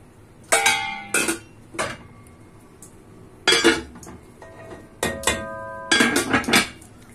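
A lid is set down on a metal cooking pot of rice and meat, giving several sharp, close metallic clanks and rattles in short bursts, with no talking.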